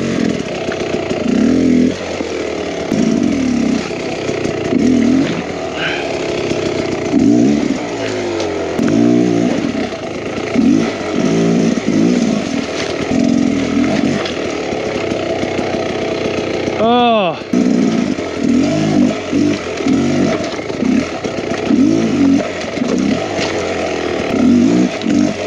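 Enduro motorcycle engine on a rough, hard trail, ridden solo: a loud, buzzing engine that rises and falls in constant revving bursts, sometimes spiking high, under intermittent talk.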